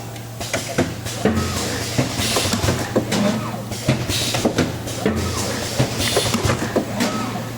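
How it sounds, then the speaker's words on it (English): A downlight assembly machine running on test, a steady motor hum under repeated mechanical clacks and short pneumatic bursts at an irregular, busy rhythm, fairly loud and close. "Now we start to test the machine."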